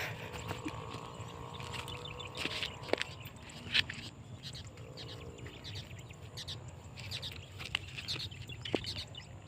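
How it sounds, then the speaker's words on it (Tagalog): A bird tangled in a net strung over a rice field flaps its wings in short bursts and gives a few chirps, close by and quiet, with faint outdoor background throughout. "Ibon natin mismo nahuli."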